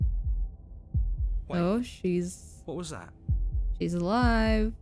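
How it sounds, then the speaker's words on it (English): A game's heartbeat sound effect thumps in a steady low double-beat pulse, loud and close, running under several short spoken exclamations. "That was the sound of a heartbeat,"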